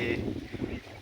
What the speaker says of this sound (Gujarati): પવન જોરદાર આવે છે